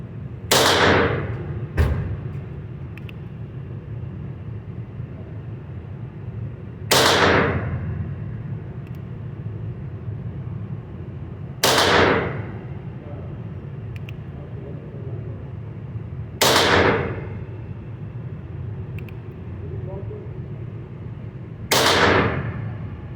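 Six sharp, loud single shots from a tiny North American Arms .22 LR mini revolver ring out at an indoor range in Slidell, Louisiana, spaced several seconds apart, each with a quick echoing decay over low room rumble.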